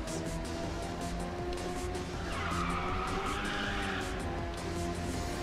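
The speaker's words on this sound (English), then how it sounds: "Drifting around that corner" Car drifting around a corner in Ridge Racer 6, tires skidding and squealing for a few seconds over a steady engine drone, loud and close with no talk.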